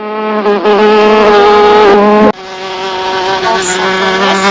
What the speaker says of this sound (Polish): Osa to jest.